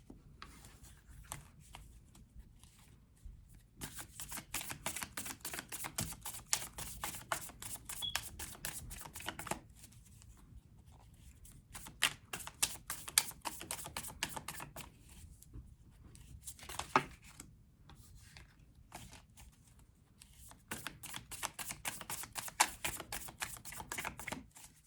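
A deck of tarot cards being shuffled up close, rapid riffling bursts of flicking card edges coming in several long runs separated by brief pauses, soft and crisp with no talking.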